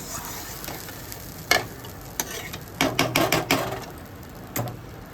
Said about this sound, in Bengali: ভালো করে নাড়িয়ে দিচ্ছি আমি।